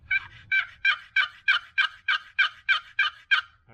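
A custom turkey box call worked by hand to imitate a gobbler, producing eleven loud, evenly spaced raspy yelps close to the listener in a steady rhythm, with no voices.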